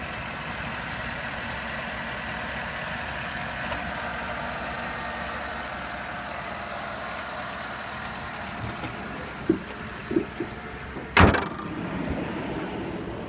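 A 5.3 V8 Vortec in a 2011 Chevrolet Avalanche, fitted with an aftermarket K&N air filter, idles in a steady low hum under the open hood, with a few brief knocks and a sharp clunk near the end.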